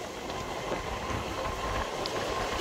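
A Sealdah local train runs in Kolkata between Park Circus and Ballygunge stations, giving a steady, rumbling roar of wheels and carriage noise with wind rushing past, continuous and even throughout.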